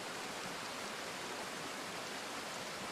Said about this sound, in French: là, si tu entends une rivière